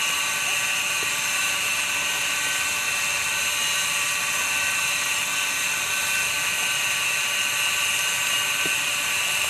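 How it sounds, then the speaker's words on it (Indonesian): A jet pump drawing water from a well runs with a constant, loud mechanical whine and buzzing drone, unbroken throughout with no voices. "Sebab ini jet pump loh, jet pump saya pakai."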